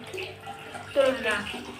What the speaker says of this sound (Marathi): पाणी भरायला लागले तेवढं पाणी फास्ट येते बघा